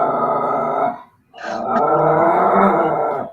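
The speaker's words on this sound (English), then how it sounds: "That's my dog." A dog growling close and loud in two long, rumbling stretches separated by a short pause.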